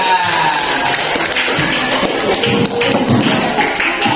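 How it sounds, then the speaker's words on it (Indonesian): Students in a classroom applauding a group presentation, a loud, continuous patter of clapping and tapping hands with a noisy crowd murmur underneath, close and filling the room. "tepuk tangan kelompok 2."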